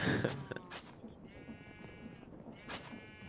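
An orange sheep in the Minecraft video game bleats in short harmonic cries, one early and another near the end, mixed with soft game background noise.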